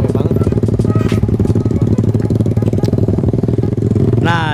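A bored-up 188cc Honda Supra GTR-style motorcycle rumbles loud and close with a rapid, rattling engine beat, steady throughout, ending in a short rising rev as it moves off.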